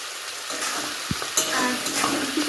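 Vegetables salted for a chicken dish fry in hot oil with a bright, steady sizzle, broken by a sharp utensil knock and stirring scrapes, close and fairly loud.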